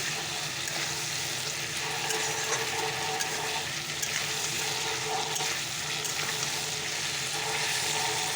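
Vegetables fry in a pan in a home kitchen, giving a steady, close sizzle with a faint watery crackle that holds evenly throughout, with no talking.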